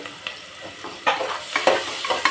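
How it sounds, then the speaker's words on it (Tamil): Chopped onions sauté in a pan with a low, close sizzle broken by several soft stirring scrapes and spatula bumps. "நம்ம வெட்டி வச்சிருக்கிற வெங்காயம், அதையும் போட்டு"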